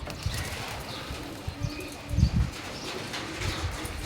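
Ice Bar Damascene pigeons on a farm make soft cooing and flapping sounds, with a few louder wing flutters and low coos rising out of steady background noise.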